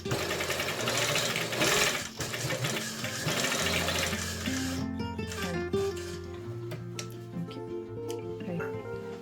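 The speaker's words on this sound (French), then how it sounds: "Et maintenant, on va faire la couture." Sewing machine stitching fabric pinned with shirring elastic for smocking, a steady mechanical whir running throughout with some rattling, loud and close, with no talk over it.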